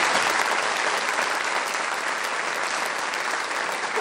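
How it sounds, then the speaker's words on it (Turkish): An audience in a university lecture hall claps steadily, a dense, even wash of applause holding at full strength throughout with no voices standing out. "Alkışlasanız ya."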